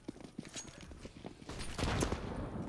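A Counter-Strike: Global Offensive esports match at a world championship, with rapid bursts of gunfire and a grenade blast rumbling in a busy, fairly faint game mix.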